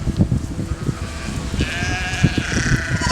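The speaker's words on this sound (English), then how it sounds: "And look at these lovely lambs." Lambs and their mothers bleating near a mountain campsite, several overlapping bleats close by, some high and thin, others lower, repeating irregularly over steady outdoor background.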